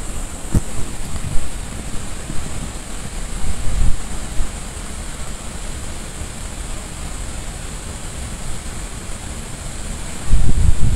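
Water rushing over the top of the Ouzoud waterfalls in Azilal province, Morocco: a steady, loud broadband roar with no pauses, swelling briefly near the end, like close surf or strong wind.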